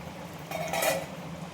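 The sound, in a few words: cooking pot lid lifted, clinking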